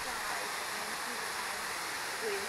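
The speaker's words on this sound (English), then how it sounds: "Madison Creek Falls. Isn't that beautiful?" Steady rushing roar of Madison Creek Falls in Olympic National Park, a continuous broadband wash of falling water heard at moderate distance without pause.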